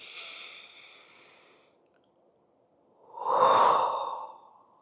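A slow, deep breath during a guided breathing exercise: a soft airy inhale fades to a pause, then a fuller, louder exhale swells and trails off, close and alone.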